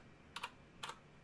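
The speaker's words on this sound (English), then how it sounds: "I have a keyboard in my hand, and it's turning into a rainbow as I'm hitting the keys." Keys struck on a light-up computer keyboard, three quick clicky bursts of two or three keystrokes each, close and clear against a quiet room.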